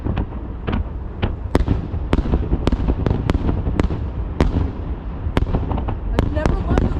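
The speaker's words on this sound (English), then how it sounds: "I've never loved the fireworks more." Fireworks bursting outdoors at a show by a river in Wyoming: a steady run of sharp cracks and pops, some near and loud, others fainter, with a low rumble and crowd murmur underneath.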